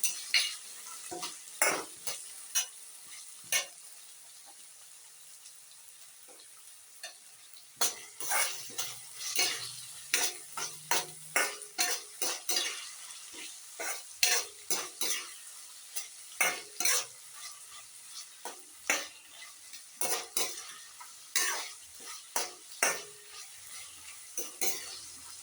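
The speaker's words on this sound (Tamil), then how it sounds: "இப்போ கட் பண்ணி வச்ச கேரட்டையும் பீன்ஸையும் போடுறேன். அதையும் நல்லா வதக்கிக்கோங்க." Chopped carrots and beans are sautéed in a pan, with bursts of scraping and stirring clinks from a spatula over a soft sizzle, and a few quiet pauses between rounds of stirring.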